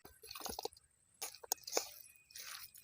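Raw chicken pieces are tipped in and mixed with pepper powder, salt and spices on an outdoor farm, giving wet squishing, squelching and soft slapping sounds in irregular bursts, close by, with no talking.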